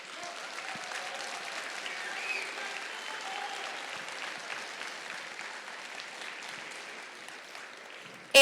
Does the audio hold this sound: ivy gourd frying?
no